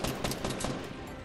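Rapid gunfire in Fortnite Battle Royale shooting down a trap, a dense, loud burst of repeated shots lasting about a second.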